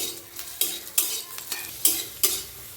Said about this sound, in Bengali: উচ্ছেটাকেও আমি ভালোভাবে ভেজে নেব।